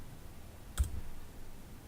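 A single sharp computer mouse click, close and brief, set against a quiet background hum while navigating a circuit simulation website.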